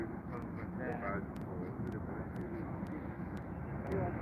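Airbus A380 airliner taking off at London Heathrow, a steady broad engine roar that holds strong for the whole stretch, with a voice talking briefly over it.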